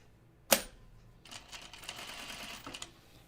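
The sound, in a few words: sewing machine stitching around a top's collar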